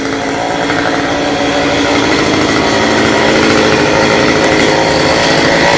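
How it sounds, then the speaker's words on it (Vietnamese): A saw cuts down a leaning tropical almond tree that rests against a house roof above a small shrine. Its motor runs loud and close with a continuous, unbroken whine. "cưa hạ cây bàng nhớt này"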